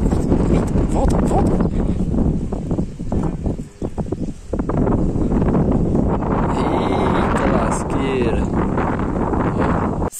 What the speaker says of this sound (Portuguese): o vento tá muito forte, mano.